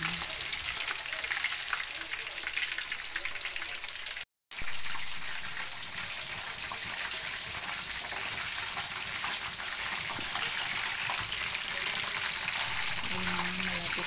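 Homemade chicken pieces frying in hot oil, a steady loud sizzle and crackle that runs on without pause apart from a brief dropout, with faint stirring underneath.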